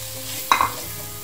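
A short burst of sizzling and stirring from vegetables frying with chili pepper in a pan, rising sharply for a fraction of a second, then settling back to a low steady hiss.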